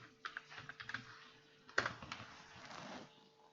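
Quick bursts of key taps on a computer keyboard as a business name is entered, close and quiet, with a short pause and then a firmer run of clicks.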